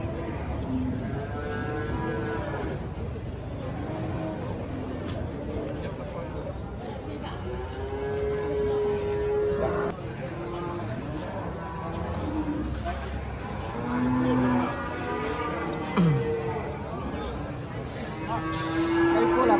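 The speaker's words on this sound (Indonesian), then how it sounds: "Ini jadi sapinya, ada sapi Bali juga banting pesisir." Cattle, including Bali cattle, low and moo at a busy livestock market where animals are bought for sacrifice. Several drawn-out calls rise amid constant crowd chatter and nearby talking.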